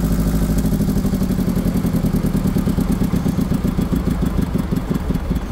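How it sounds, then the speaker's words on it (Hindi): A refurbished Kirloskar 15 kVA air-cooled silent diesel generator runs close by with a loud, steady, rapid mechanical chug and rattle that continues unbroken throughout. "लोड हटा दिया गया है, अब रेड बटन दबाएंगे जनरेटर बंद हो जाएगा।"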